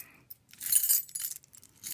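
Keys on a cheap free carabiner jangle and clink in short bursts, close and fairly quiet, with a bright metallic rattle scattered through the moment.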